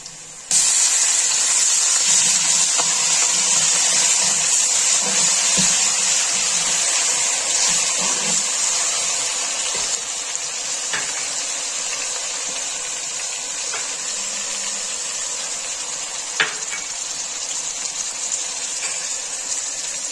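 Ginger garlic paste sizzles in a hot pan while aloo gobhi sabzi is being cooked, a steady close hiss of frying with faint crackles that fades slightly over time.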